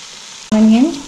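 Chicken biryani masala with onion, chicken powder, khatai powder and kasuri methi hits a hot pot, setting off a sudden loud sizzle halfway through that stays close and bright before settling slightly.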